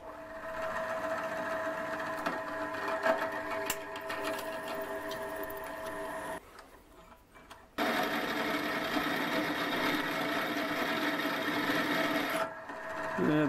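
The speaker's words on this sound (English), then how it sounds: "so I shall pre-drill these and then take them out to 10mm" A drill whines steadily through metal while pre-drilling holes for a four-jaw lathe chuck, pauses briefly, then starts again and keeps grinding at a constant pitch.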